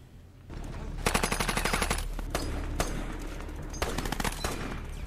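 Bursts of automatic gunfire in a WWII Pacific war drama set during the Peleliu landing, loud and sustained in rapid rattling volleys with brief gaps between them.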